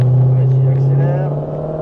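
A Shelby car accelerates with a loud, close engine rumble and rising harmonic drone that eases off slightly toward the end.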